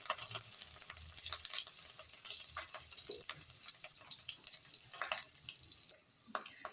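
Whole red chillies, mustard seeds, cumin, asafoetida and curry leaves sizzle in hot oil for a sambar tempering, a steady close crackle with scattered sharp pops and faint clinks of stirring.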